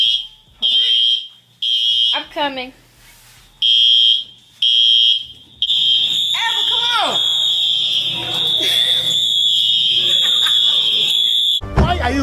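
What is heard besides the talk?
dormitory fire alarm going off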